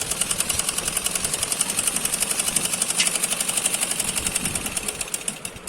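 A sewing machine stitches straight seams on suit fabric with a fast, even mechanical chatter of rapid needle strokes. It is loud and close, runs steadily, and slows to a stop at the very end without any talking.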